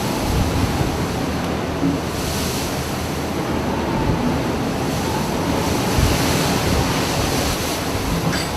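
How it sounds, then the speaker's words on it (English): High storm waves in the Bay of Biscay, with a steady, loud roar of surf and wind and a constant rushing wash through the whole clip. "There are very long and high waves in the Bay of Biscay."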